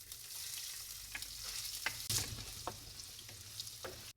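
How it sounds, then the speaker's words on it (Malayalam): Chopped ginger frying in coconut oil in a clay pot gives a quiet, even sizzle, broken by periodic scraping strokes of a stirring utensil and one louder clatter midway, ending abruptly. "അരിഞ്ഞു വെച്ച ഇഞ്ചി ഇട്ട് കൊടുത്തിട്ട് ഒന്ന് ജസ്റ്റ് ഒന്ന് മൂപ്പിച്ചെടുക്കുക"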